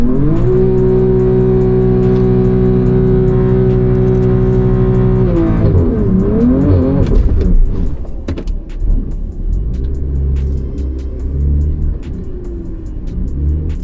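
A BMW M4 CS and a Stage 1 Mercedes C63 AMG run a drag race, with a loud, steady high-revving engine drone holding for several seconds, then shifting and surging into a rougher, throbbing roar that rumbles on to the end.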